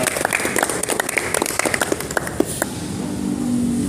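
A short burst of clapping from a small group at a Tapak Suci pencak silat event, fading out after a few seconds into steady background hum.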